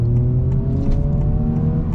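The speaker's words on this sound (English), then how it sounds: "That's what happens if you let out of the clutch too soon before the RPMs drop." A manual car's engine revs and bogs as the clutch is let out too early, a steady mechanical drone with rising and falling pitch, close and fairly loud.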